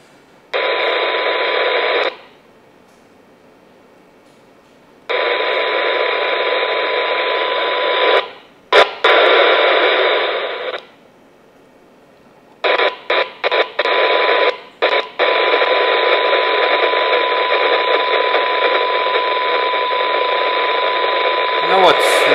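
A Baofeng UV-16 PRO handheld radio receiving a test signal from a generator on the bench: a loud, steady tone that switches on and off in long bursts, broken by short gaps and a few clicks.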